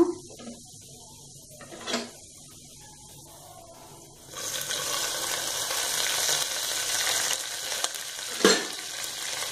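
Urad dal and green chilli fry in a pan with a soft sizzle that swells louder midway, broken by a couple of brief scraping stirs, with a voice talking faintly in the background.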